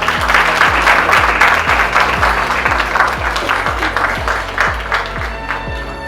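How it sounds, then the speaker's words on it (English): Applause from an audience at an awards ceremony, dense sustained clapping that slowly thins, with a rhythmic low thump pulsing underneath throughout. "Please keep the applause going."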